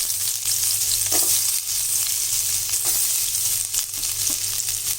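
Onion hits hot oil already crackling with mustard seeds, cumin and urad dal for a cabbage and moong dal poriyal, giving a steady close sizzle with a few soft stirring scrapes and no talk.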